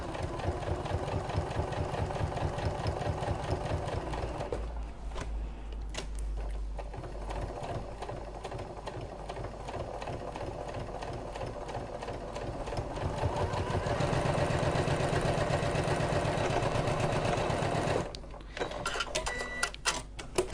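A sewing machine stitches a medication bag organizer, running in a steady, continuous mechanical whir close by for most of the stretch, breaking off briefly near the end before starting again.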